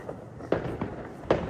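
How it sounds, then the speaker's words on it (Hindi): Firecrackers bursting outdoors during Diwali, heard as three separate sharp pops spaced irregularly, with a fainter crackle before the first, over a quiet background. "अब आप सोच रहे हो कि पटाखों की आवाज़ सुन के कितनी खुश हो रही है"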